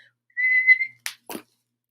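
A whistle blown through an acorn cup gives a short, clear, high, steady tone, followed by two quick breathy puffs, close and alone in otherwise silence.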